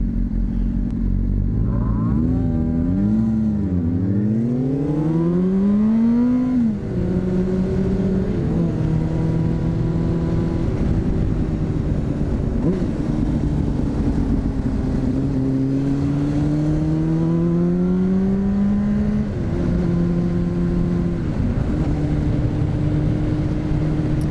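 A motorcycle engine runs close and continuously as the rider filters between cars in traffic, its pitch rising and falling through repeated gear changes and throttle adjustments.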